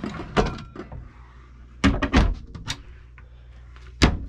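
Slide-out cabinet drawers in the cabin of a 1997 Bayliner 2859 Ciera Express cruiser are pulled open and pushed shut, giving several sharp close knocks and sliding clatters separated by quiet gaps.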